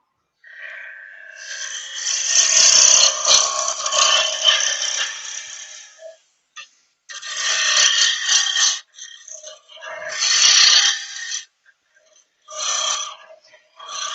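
A woodturning tool cuts into wood spinning on a lathe, giving harsh, scraping, hissing bursts of cutting noise that start and stop several times, with brief silences between passes.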